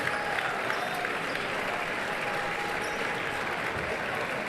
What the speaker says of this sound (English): the Morton fans and players have every right to clap up this whole gym, celebrate